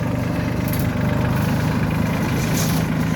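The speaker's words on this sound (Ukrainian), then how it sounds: "прекрасний потужний трактор." A powerful 2023 Solis 26 tractor fitted with a rotary tiller idles up close, a steady, loud, low diesel throb that runs without a break.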